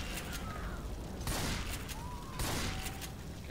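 Gunfire from Ellis shooting zombies in Left 4 Dead 2, a steady rattle of shots with two sharper, louder bursts standing out against continuous game noise.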